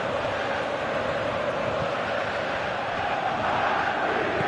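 A football stadium crowd roars in a steady, loud, continuous wash of cheering and noise that holds without a break.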